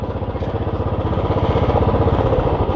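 A motorcycle coasts down a hill road from Kalimpong toward the Teesta with the clutch held in, its engine giving a loud, close, rhythmic low putter with steady pulsing and no voices.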